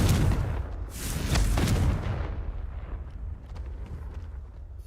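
A Confringo blasting spell explodes in the video game Hogwarts Legacy: two heavy, rumbling booms in quick succession, then a long crackling rumble that slowly fades.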